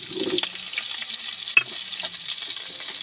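Goat fat frying in a pan and being stirred, a steady close sizzle with scraping stirs and a sharp clatter near the middle, no talking.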